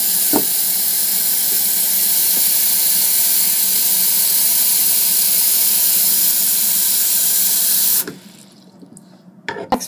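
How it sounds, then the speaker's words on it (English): Tap water runs in a loud, steady hissing stream into a measuring cup for about eight seconds, then cuts off, leaving a quiet room with a couple of faint knocks. "fill the measuring cup to 1 liter"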